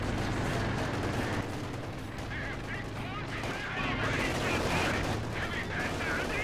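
Gunfire rattles almost continuously in a Company of Heroes 2 match as a German Panther tank leans on its machine gun, with a dense layer of battle noise underneath and no pauses.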